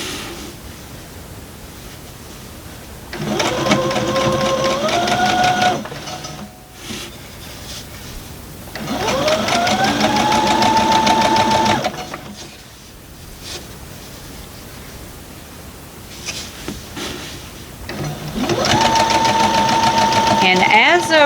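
Sewing machine stitching the bottom border of a Halloween-themed Boo quilt, running in three sustained bursts with a whirring motor whine, separated by quieter pauses.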